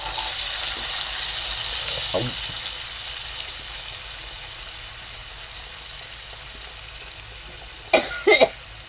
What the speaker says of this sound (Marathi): आता त्याच्यात लसूण पाकळ्या टाकू आणि कांदा टोमॅटो टाकू